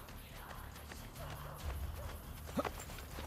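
In the video game Assassin's Creed Brotherhood, a horse's hooves clip-clop softly and rhythmically in the background. A faint voice is heard briefly near the end.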